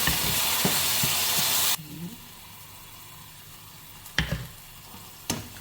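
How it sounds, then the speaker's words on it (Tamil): Tomato and cashew paste hits a pan of bell pepper masala with a loud sizzle that cuts off abruptly, followed by a quiet simmer with a few sharp clinks of stirring. "நல்லா பச்சை வாசனை போட்டு நல்லா வதக்கணும்."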